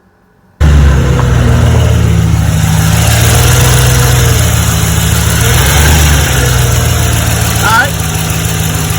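A 2007–2013 GMC or Chevrolet pickup engine with a broken motor mount starts loud after a brief silence, then holds a steady, close, rumbling run, with its pitch rising and falling slightly as it is revved.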